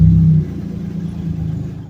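A car creeping slowly along in heavy highway traffic, its engine giving a steady low rumble from inside the cabin, with a brief louder hum at the start before settling.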